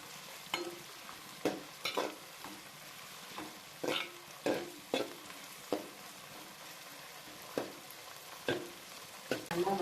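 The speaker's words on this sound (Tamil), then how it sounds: "அதையும் நல்லா எண்ணெயிலேயே வதக்குங்க" Tomatoes sizzle in hot oil while a utensil stirs and scrapes the pan in irregular strokes, close by with no talking.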